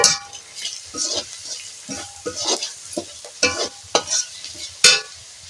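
Spice mix of Kashmiri chilli powder, hot chilli powder and turmeric with ground nut paste frying in a pan, with repeated stirring scrapes and bursts of sizzling over a low crackle, close and without talk.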